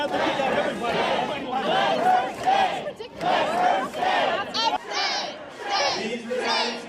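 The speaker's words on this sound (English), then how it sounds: "And the crowd began chanting." A large crowd chants in unison, voices rising and falling in a repeated rhythmic pattern, loud and sustained.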